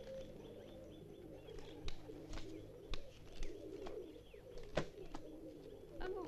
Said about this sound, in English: Come to feed the pigeons?